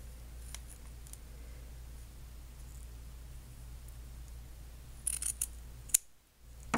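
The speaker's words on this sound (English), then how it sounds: "I just cut straight across from that cut. I cut in half again." Scissors snip through fabric being cut into flower petals, a few quick close cuts near the end over a faint steady hum, with no voices.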